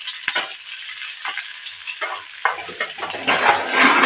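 Onions frying in a pan for a vegetable palya, a steady sizzle with occasional stirring scrapes that swells louder toward the end, no voices.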